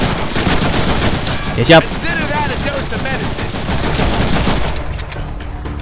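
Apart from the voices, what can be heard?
gunfire shooting at player in the Deadpool video game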